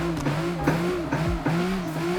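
A car drifting in the CarX Drift video game, its engine holding a high droning rev that dips and climbs with gear shifts, with tire squeal over it, loud and continuous.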